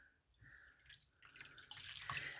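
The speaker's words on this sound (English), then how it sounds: "I'm going to dip it in my warm water right here." A cloth being dipped into a bowl of warm water, faint soft drips and gentle sloshing that grow a little louder toward the end, with no voices.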